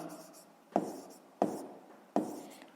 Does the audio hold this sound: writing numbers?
yes